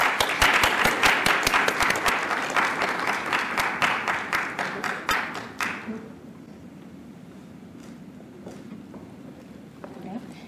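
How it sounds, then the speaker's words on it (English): Applause rings out at an awards dinner, sharp rhythmic clapping from a crowd that holds steady for several seconds, then drops away abruptly, leaving a quiet room with a few stray claps. "Round of applause."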